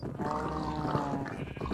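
A Minecraft sheep bleats in a wavering, throaty tone, fairly close and steady, continuing for a couple of seconds with a busy game soundtrack underneath.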